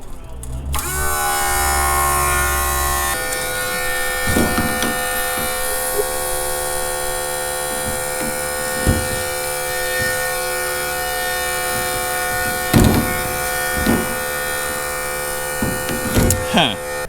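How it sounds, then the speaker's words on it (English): A water pump on a Hi-cycle 6000 setup drones steadily with a high whining hum while pumping air before priming, close and continuous, with scattered knocks and clanks. "Apparently it's just pumping air."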